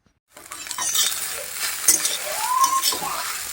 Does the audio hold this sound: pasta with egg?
yes